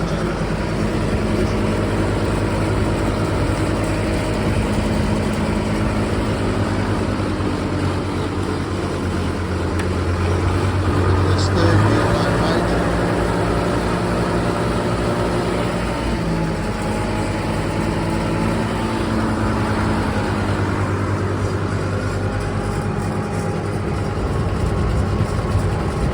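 An old SAME tractor's diesel engine runs steadily while skidding a fallen tree, a loud continuous low rumble with a brief rise in revs midway and no talk.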